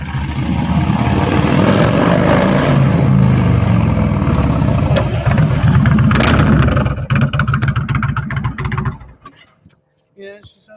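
Motorcycle fitted with Tab Performance pipes roaring past close by, its loud throaty exhaust rumbling hard for several seconds before cutting away to quiet.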